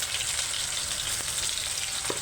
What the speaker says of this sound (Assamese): এতিয়া মই ইয়াতে গেছটো অকণমান কমাই লৈছোঁ আৰু ইয়াতে মই দিছোঁ পনীৰখিনি ভাজি ল'ম।